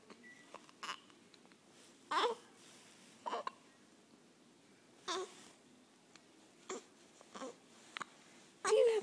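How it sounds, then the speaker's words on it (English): A baby hiccups repeatedly while waiting for lunch, short sharp gulps spaced a second or two apart, close and fairly clear over a quiet room with soft babbling between. "Do you have the hiccups?"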